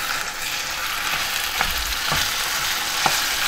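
Minced beef frying in a pan for stuffed cabbage rolls, a steady close hiss of sizzling with a few soft stirring scrapes and taps, no talking.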